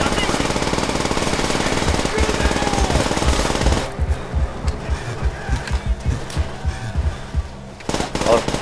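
Loud, rapid machine-gun fire in Call of Duty: World at War on Veteran difficulty, a harsh continuous burst that breaks into choppy repeated volleys, close and dominant with a voice faintly underneath.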